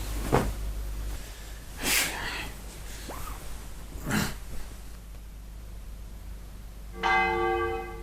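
A clock bell chimes near the end with a clear ringing tone, preceded by scattered breaths, snorts and soft thumps in a quiet room.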